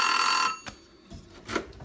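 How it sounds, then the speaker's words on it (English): An oven kitchen timer in a fifth wheel RV kitchen rings with a bright, rapid metallic trill for about half a second, then cuts off, leaving a few faint knocks and handling sounds. "And it's got a kitchen timer."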